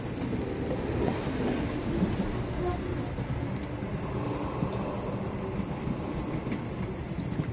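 A train runs in the video game Sherlock Holmes: The Awakened, giving a steady low rumble with rattling and clattering that holds evenly throughout.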